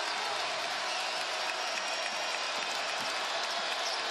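Steady crowd noise and cheering fill a college basketball arena during a Texas Tech versus Oklahoma State men's game, a continuous roar without distinct breaks.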